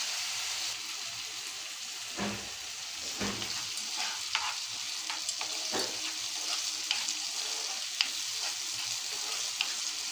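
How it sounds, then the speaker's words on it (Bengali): Chili peppers sauté in a pan for a fish curry, giving a steady, soft sizzle with occasional stirring scrapes and crackles and no talking. "দেখো, মোটামুটি আমার মরিচটা কষানো হয়ে গেছে।"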